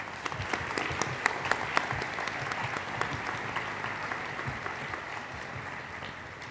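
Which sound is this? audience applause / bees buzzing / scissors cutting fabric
audience applause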